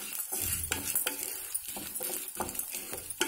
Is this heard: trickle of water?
no